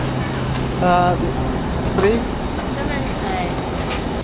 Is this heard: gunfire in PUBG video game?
no